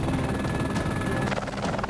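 A helicopter circles overhead above a canyon, its steady low rotor thrum filling the air with a continuous broadband roar that stays loud throughout.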